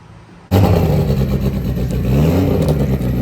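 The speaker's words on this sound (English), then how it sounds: "Just listen to the sound of this damn Evo." A Mitsubishi Evo IX engine, with a broken crankshaft pulley, bursts into a loud rev after a quiet half second, then holds a rough, throaty roar with a raised idle, close and steady to the end.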